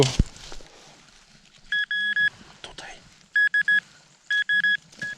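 A metal detector in a forest emits short, repeated electronic beeps in three clusters, each a bright tone pulsing on and off, with faint rustling and quiet speech between.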